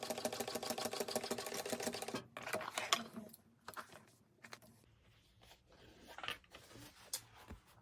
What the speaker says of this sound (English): And I want my seam to go down. And I'm going to top stitch this.